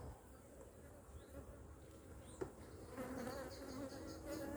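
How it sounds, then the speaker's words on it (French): Honeybees buzz steadily at an open beehive, a faint dense hum with individual bees droning past close by, plus a brief soft knock midway. "Il y a de l'abeille"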